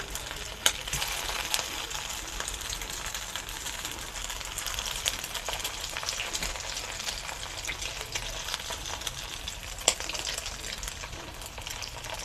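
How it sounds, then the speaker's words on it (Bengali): Chicken burger patties fry in refined oil in a pan with a continuous, even sizzle and a couple of sharp clicks from the pan. "এখন আমি বার্গারের পেটিগুলো ভেজে নেব, একটা একটা করে দিয়ে দিচ্ছি"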